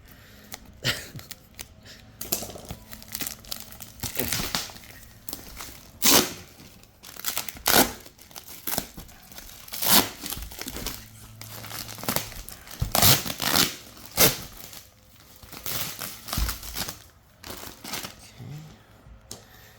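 Plastic packaging bag around a human-sized dog bed being handled and opened up close, giving repeated loud crinkling and rustling bursts in irregular rhythm, with no talk.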